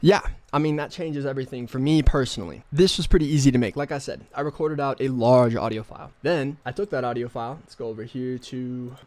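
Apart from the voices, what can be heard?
No everyday noise stands out behind the speech.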